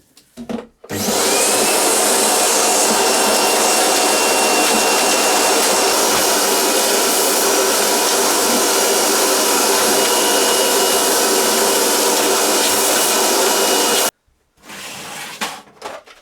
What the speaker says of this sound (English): Let's give it a quick vac.